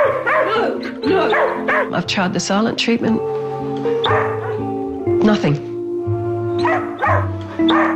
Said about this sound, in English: a way that I can stop him barking